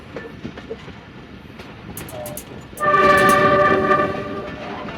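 A passenger train's whistle blasts loudly and steadily for about two seconds at a railway station in Pakistan, over the rumble and clatter of the passing train.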